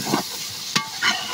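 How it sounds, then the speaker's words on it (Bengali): Country chicken curry with potatoes being stirred in a pan, a few scraping strokes over a soft sizzle, close and brief. "একটু নাড়াচাড়া করে নিলাম,"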